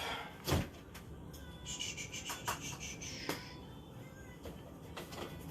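A cat meows in a home kitchen where a pound cake is being made, one short nearby call amid clatter and quiet room noise.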